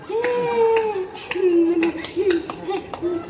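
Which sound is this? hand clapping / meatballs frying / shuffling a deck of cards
hand clapping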